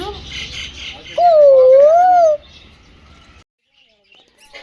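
Small colourful birds chirping at Neelon zoo in Punjab, a clear rising-and-falling whistled call standing out over softer twittering, with a person talking nearby.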